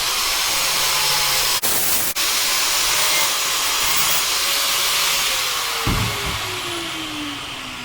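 A steel kitchen knife blade is ground down with stock-removal grinding, producing a loud steady hissing rush that runs unbroken, with two brief dropouts and a shifting tone near the end.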